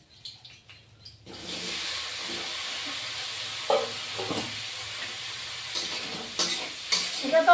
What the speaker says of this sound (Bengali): এখন কাঁচকলাটা ভেজে নেব